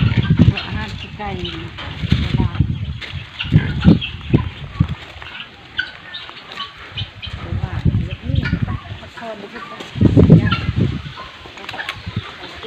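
Chickens cluck and chatter in a farm enclosure alongside pigs, a busy layer of fowl calls mixed with grunting and rustling, while people talk loudly close by for most of the time.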